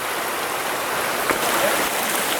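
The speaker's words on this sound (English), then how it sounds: "As we head up the stream" Steady creek water rushing over big rocks in early summer, a continuous broadband flow heard close and fairly loud without a break.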